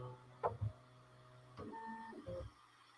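A Bambu Lab P1P 3D printer runs its auto bed leveling routine, giving faint, close stepper-motor whines and short tonal movement sounds with a few soft knocks, heard alone.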